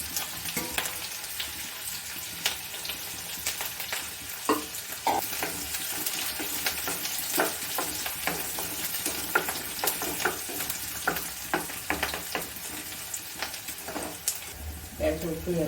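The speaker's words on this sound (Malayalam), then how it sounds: "എണ്ണ ചൂടായി നമുക്കിത് വഴറ്റാനുള്ളതൊക്കെ വഴറ്റാം." Onion and green chilies sauté in hot oil in a pan for a taro curry, giving a continuous close sizzle and frying hiss broken by stirring scrapes, with a person talking over it.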